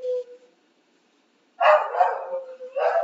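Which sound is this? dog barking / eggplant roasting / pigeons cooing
dog barking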